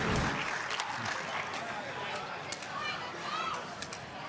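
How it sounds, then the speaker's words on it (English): Pickleball crowd at the JW Marriott cheering and clapping after a rally, a loud burst at the start that settles into scattered applause, shouts and whistles. "Crowd beside themselves here at the JW Marriott Soarway."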